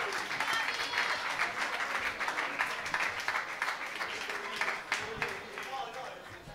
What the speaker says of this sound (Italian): applausone, raga!